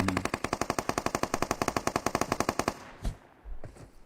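Rapid automatic gunfire in a shooter video game, a steady stream of about twenty close, loud shots for nearly three seconds, then a couple of isolated thuds and quieter movement sounds.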